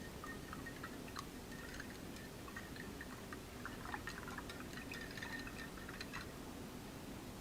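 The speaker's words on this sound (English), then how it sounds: "I'm going to go ahead and rinse my brush" A paint brush swished and rinsed in a water container during a Mod Podge painting session, giving soft continuous sloshing and dripping close by with small clinks, steady and fairly quiet, with no talking.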